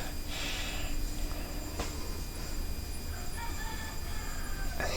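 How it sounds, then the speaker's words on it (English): A rooster crows at a distance over steady background noise, with a single call of moderate volume standing out from the outdoor ambience and no talking. "He has a lot to say today, that rooster."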